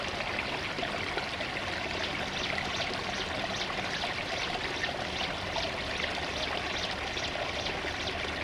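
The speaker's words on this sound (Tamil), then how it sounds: "தண்ணி சுத்தமான தண்ணி, மலை உச்சிலேருந்து இப்போ தான் ஃப்ரெஷ்ஷாக வருது" Fresh, cool spring water runs down from a mountain top near a hill temple at Aaralvoimozhi, a steady close trickling and splashing stream that fills the whole stretch with no voices.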